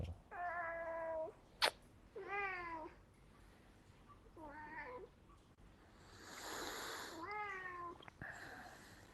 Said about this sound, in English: He's kind of more like a dog, except that he sounds like a cat. He's just very vocal.